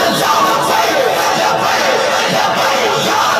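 A rally crowd at an Eid Milad-un-Nabi procession answers a takbeer call, voices roaring together in a loud sustained chant that fills the space.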